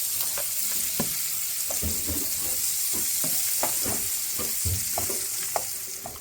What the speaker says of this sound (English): we get the margarine into the pan, and that is to fry the pepper